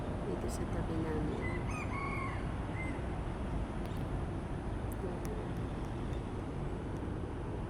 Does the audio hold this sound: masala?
no